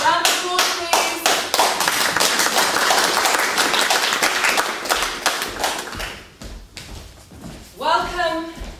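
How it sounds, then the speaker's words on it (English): An audience gives a round of applause, with loud, sharp claps and some thumps at first, fading after a few seconds as voices talk over the end. "Round of applause, please."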